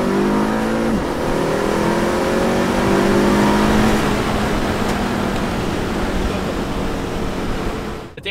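Tuned 2017 Audi A3 Quattro making about 430 wheel horsepower accelerating hard on a run, engine note climbing steadily through the gears with loud, continuous road and wind roar and no talk.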